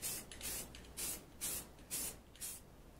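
Black paint sprays onto the inside of a Royal Enfield cafe racer fairing in short rhythmic hissing bursts, about six close passes with brief gaps between them.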